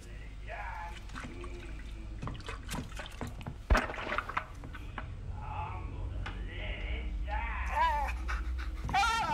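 A dog pants in The Outlast Trials, quick rhythmic breathy huffs mixed with wet dripping and sloshing sounds, while a person talks over it.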